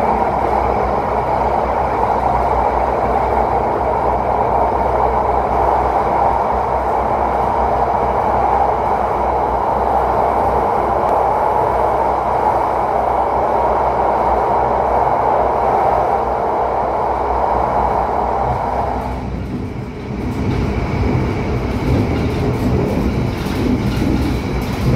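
Lodaya passenger train on the Bandung–Yogyakarta line running through the Ijo tunnel, a loud steady rumble and rattle of railcars with rhythmic wheel clatter, shifting in tone near the end as the tunnel acoustics change.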